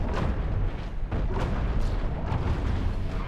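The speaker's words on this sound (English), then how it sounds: "It's a deck cannon!" A deck cannon fires in the space-combat game Cosmoteer: dense, loud booming blasts over a continuous heavy rumble, with several sharper reports standing out, no talking.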